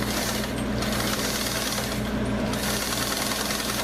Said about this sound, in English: Now you want to sew it where you did the fold, where you iron the fold on.